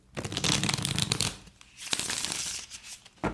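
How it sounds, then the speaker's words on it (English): Riffle shuffling a 1989 Wonderland tarot deck: a close, papery rippling whirr of cards falling together, then a softer bridge settle and a final tap. "You can do a rifle shuffle with it"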